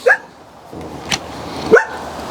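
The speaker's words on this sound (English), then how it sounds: "every time I have a trigger word like good afternoon, the little dog decides to start barking." A small hearing dog barks in a few sharp, close yips spaced across the moment, loud against a quiet room.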